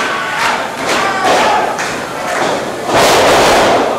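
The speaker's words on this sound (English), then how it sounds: "Oh, he went for the drop kick on the leg." A drop kick in a New Wave Pro wrestling match lands with a thud on the mat amid a loud, roaring crowd that swells near the end.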